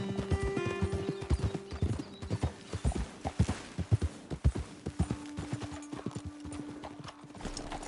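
Rapid hoofbeats of galloping horses in the video game Red Dead Redemption, a dense rhythmic clip-clop with occasional whinnies over a faint background hum.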